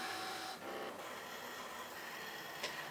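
Brother ScanNCut cutting machine slicing fabric with its fabric blade, a steady close mechanical whir with faint scraping, running continuously with a couple of brief pauses and clicks.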